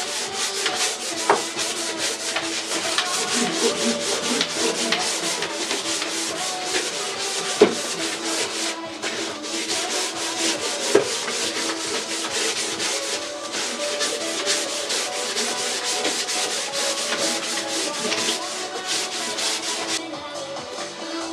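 Wood on a grinding bench gets a light sanding to clean off grime before varnishing. The abrasive rubbing is steady, continuous and close, broken by a couple of sharp knocks.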